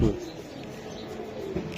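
Racer pigeons coo in soft low bursts close by, with a louder onset at the start and another swell near the end over light background noise.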